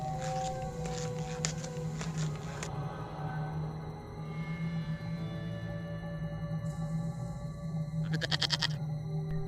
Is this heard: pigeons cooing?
no